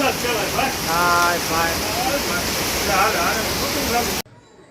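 Heavy rain pouring down in Kamrej, a dense constant hiss filling the background while people talk over it nearby.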